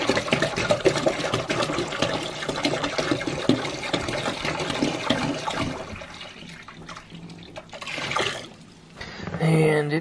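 Warm water pours into a winter livestock waterer that still holds cold water, a steady splashing rush with talk over it, easing off near the end before a brief louder burst.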